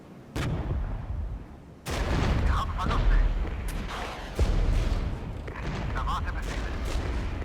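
Heavy gunfire and booming artillery-like blasts pound a T-55 tank in the Cold War strategy game Regiments, with dense, continuous volleys and loud impacts layered throughout, close and sustained.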